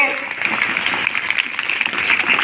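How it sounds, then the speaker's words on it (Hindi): An audience of students and guests at a girls' inter college youth seminar in Basti claps loudly, a dense, steady wash of many hands that holds evenly for the whole stretch. "जोर से बजाओ ताली।"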